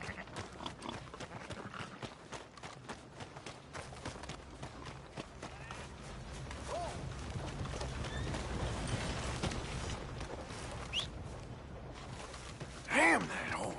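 Horse hooves pound in a fast, steady gallop for several seconds in the video game Red Dead Redemption 2, close and rhythmic, with a brief higher cry near the end.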